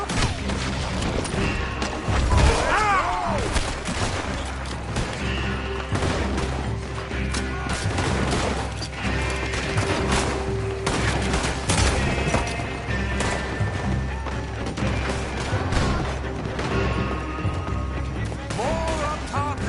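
Rapid gunfire and repeated shots ring out in a shootout in the video game Red Dead Redemption 2, with horse hooves and running in the mix and voices shouting over the steady, dense action.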